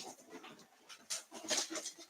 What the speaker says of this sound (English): the dog is like freaking out